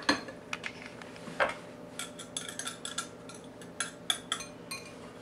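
Seasonings are dumped into a bowl and stirred, giving a series of light clinks and scrapes of a utensil against the bowl, close and fairly quiet, irregular across a few seconds.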